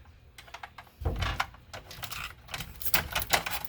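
Heat tape for sublimation tumblers is pulled and handled close up, a run of crackly tearing and tapping bursts that grow busier toward the end.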